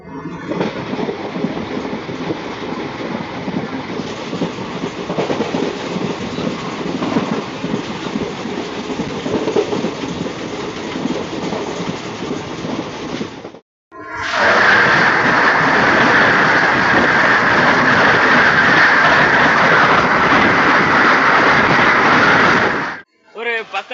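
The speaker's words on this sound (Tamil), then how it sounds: "நம்ம மதுரையோட செல்ல பிள்ளையான வைகை அதிவேக விரைவு வந்துட்டு இருக்குங்க" Vaigai Express train passing near Dindigul Junction in rainy weather, heard from aboard another express: a steady rolling rumble gives way at mid-clip to a louder, closer rushing roar with rhythmic clatter that cuts off sharply near the end.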